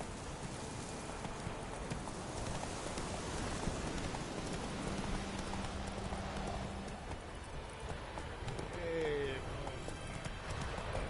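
Roach the horse gallops through rain in The Witcher 3, a steady clip-clop of hooves over a wash of falling rain, with a voice briefly speaking over it.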